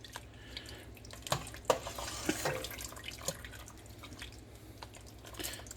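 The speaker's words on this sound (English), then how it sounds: "drain off some of the whey, which is the liquid," Liquid whey drains and drips from homemade mozzarella curds held in a holed scooper over a strainer, a soft trickle punctuated by wet drips and small squelches, close by.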